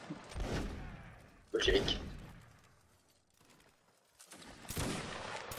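Video game gunfire of shots and short bursts, loudest in a sharp burst near the middle and again toward the end, with people talking over it.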